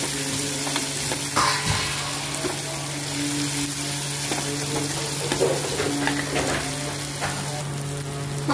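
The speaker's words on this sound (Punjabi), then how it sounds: "ਟਮਾਟਰ ਨੂੰ ਚੰਗੀ ਤਰ੍ਹਾਂ ਭੁੰਨ ਲੈਣਾ" Tomatoes and chillies fry with onions in a pan for whole masoor dal, giving a steady close sizzle with occasional stirring scrapes and no talking.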